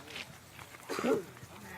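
A sheep on a farm in Sakon Nakhon, Thailand, gives a short, moderately loud bleat partway through, amid soft background farm noise.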